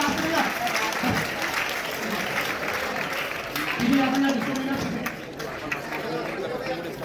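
A crowd claps steadily for several seconds at a Subroto Mukherjee school football tournament, mixed with chatter and a few raised voices nearby.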